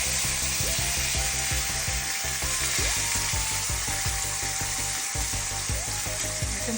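A T-bone steak sizzles and fries in butter in a pan, a steady loud crackling hiss broken by a few clanks and scrapes of a utensil, with no talking.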